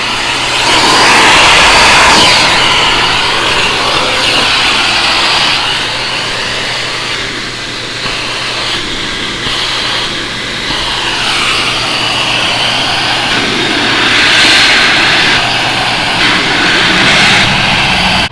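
Powerful car wash air dryers blowing a loud, steady broadband rush of air that swells and dips slightly over about eighteen seconds, with no talk.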